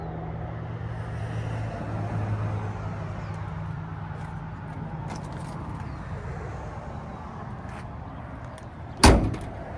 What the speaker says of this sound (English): Door closed pretty good.